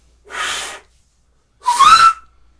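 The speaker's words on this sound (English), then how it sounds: "I can just do the regular whistle" A person whistles twice, with a silent pause between the two. Both short whistles are loud and close to the microphone, and the second rises slightly in pitch.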